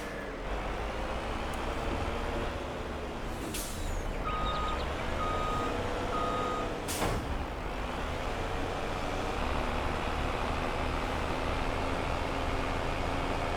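In the Farming Simulator 22 video game, a tractor backs up to a grain trailer, its reversing beeper pulsing steadily over a continuous engine drone with a couple of brief hissing bursts.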